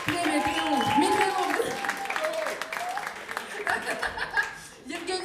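A concert audience at a soul songs show applauding and laughing, a dense wash of clapping mixed with chuckles and a sung or spoken voice over it, fading somewhat toward the end.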